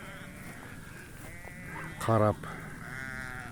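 A single short, clear bleat from a ewe with her lamb in a village yard, moderately loud and close, with a voice speaking briefly nearby over soft outdoor ambience.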